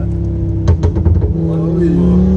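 Audi RS3 8P with a stage 2 tune revving up close: a steady idle breaks into a burst of sharp, pulsing rev blips, then settles back into a rising drone, with a voice talking over the engine.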